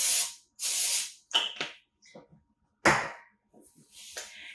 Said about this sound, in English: we're going to spray those lightly with cooking spray